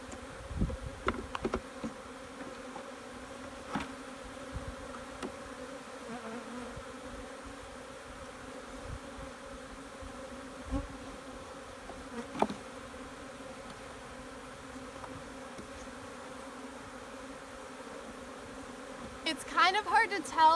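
Honey bees buzz around an open hive, a steady low drone of many wings close by with occasional louder passes near the end and faint handling sounds.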